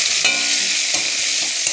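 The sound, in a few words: tomato added to hot oil, frying and stirring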